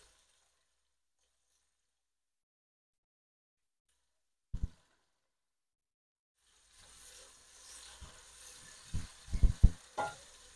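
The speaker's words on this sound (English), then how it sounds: "You have to mix and let it fry halfway" Cinnamon and whole spices frying for a beef and chicken biryani: a long silence and a single knock, then a steady close sizzle with clanking stirs growing louder toward the end.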